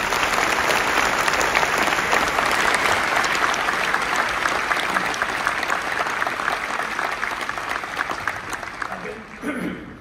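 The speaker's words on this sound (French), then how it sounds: "Je vous propose de les applaudir, ils le méritent bien." An audience at a mayor's New Year address in Belfort applauds loudly and steadily, dense clapping that holds for most of the stretch before tapering off at the end.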